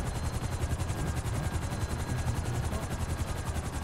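A helicopter in GTA 5 Online produces a loud, close, rapid rotor chop that pulses steadily throughout, with no voices over it.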